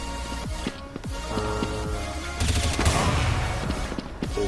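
Gunfire in Counter-Strike: Source rattles out in short bursts and single shots, with a heavier, denser volley midway through, close and loud with no talk over it.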